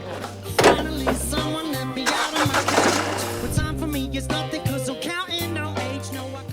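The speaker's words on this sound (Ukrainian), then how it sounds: "Десь глушитель барабанить, вже там на ямі подивимося" A Honda car engine runs with a drumming muffler, giving a low throbbing rumble that rises and dips across several seconds, loud and close with no talk.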